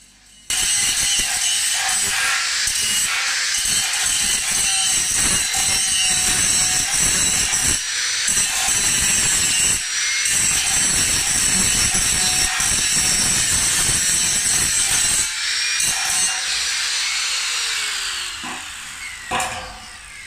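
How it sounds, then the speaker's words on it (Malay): An electric grinder or scraping tool works down a welded joint on an iron pergola, a loud continuous metallic whine with harsh rasping that starts abruptly and runs steadily before tapering off near the end. "selesai welding saya akan kikis bahagian yang telah di welding itu supaya rata"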